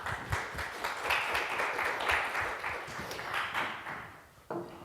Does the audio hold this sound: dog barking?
no